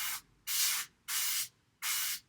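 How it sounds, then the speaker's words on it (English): Airbrush spraying Warlord purple paint over a stencil, four even bursts of hiss, each lasting about half a second with short gaps between them, close and fairly quiet, no voices. "I'm going to use the stencil and spray over it with Warlord purple to create a good contrast"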